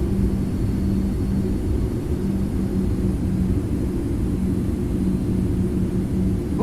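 An airliner in X-Plane 11 with the FT Sim sound pack rolls for takeoff, a steady, loud, broadband engine roar with a low droning hum holding constant throughout.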